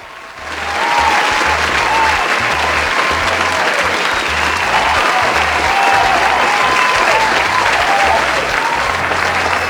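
Loud, sustained studio audience applause on a talk show, swelling within the first second and then holding as a thick, even roar of many hands for nearly ten seconds, with no talking over it.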